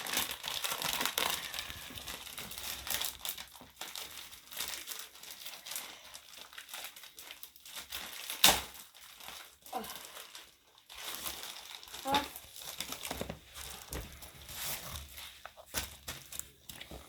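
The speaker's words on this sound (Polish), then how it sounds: "otwieramy chyba gazetkę pierwszą" Plastic packaging on a Lego Ninjago magazine being opened, close crinkling and tearing that runs in bursts with sharper crackles, with faint talk in places.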